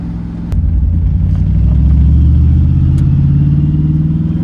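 A Chevrolet S10 pickup with a 305 V8 and a mini spool, running close and loud. A deep, lumpy rumble steps up after a brief lull and holds a steady revving drone.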